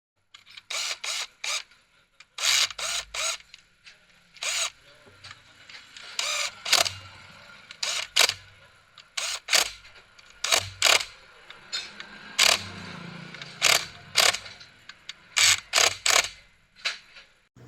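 Short bursts of a handheld impact wrench driving the clutch cover screws on a 125–150 cc underbone motorcycle, a dozen or so sharp ratcheting rattles in quick irregular succession, close and fairly loud, with no talk.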